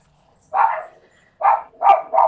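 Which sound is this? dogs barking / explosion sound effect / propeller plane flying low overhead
dogs barking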